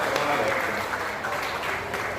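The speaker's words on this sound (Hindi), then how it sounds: "जोरदार तालियां, सारे लोग जोरदार तालियां" Dense crowd applause at a Hindi poetry gathering, the kavi sammelan in Sitapur, a steady wash of many hands clapping at once, loud and continuous throughout with a faint voice underneath.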